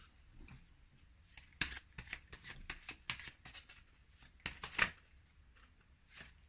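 Tarot cards are shuffled close by in quick riffling bursts, with crisp rapid flicks and a couple of sharper snaps, and no voice over them.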